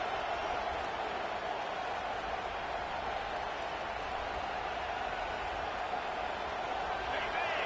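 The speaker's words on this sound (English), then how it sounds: "This crowd bringing the energy and noise early." A steady, loud roar of a large stadium crowd at a Notre Dame vs. Ohio State football game, constant throughout with no breaks, like sustained cheering from many distant voices.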